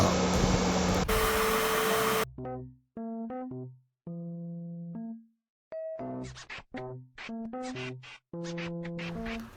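A Bissell Little Green Pro Heat machine suctioning: a loud, close rush of suction noise gives way to choppy, squealing bursts of air and liquid that stop and start in an irregular rhythm.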